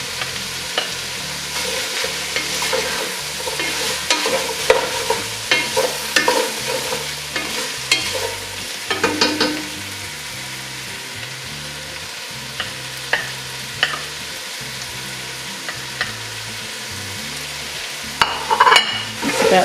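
About two tablespoons of minced ginger stir-fried in a pan for a pork soft bone dish, giving a steady close sizzle broken by repeated scraping and clinking of the spatula, with no talking.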